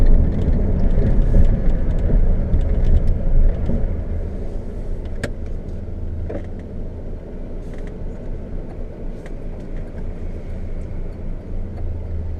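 A 1994 GMC Sonoma pickup, a Chevy S10 twin with a 4.3 V6 that has had cracked heads replaced, driving: a steady low engine rumble and road noise inside the cab, heavier at first, then settling into an even cruise.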